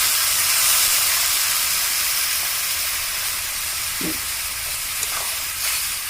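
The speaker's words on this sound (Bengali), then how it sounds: "এবার আমি খানিকটা জল দিয়ে দেবো" Water hits hot egg curry masala of coriander powder, turmeric and salt in a pan, giving a steady, loud hiss and sizzle that holds throughout with little change.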